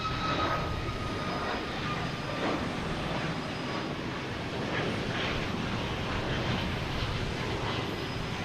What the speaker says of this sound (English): next to arrive we have, I believe this is WestJet coming in from Vancouver